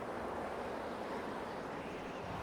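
Steady wind at El Romeral in Mexico at twilight, a continuous broadband rushing roar buffeting the microphone, fairly quiet and unbroken, with no voices.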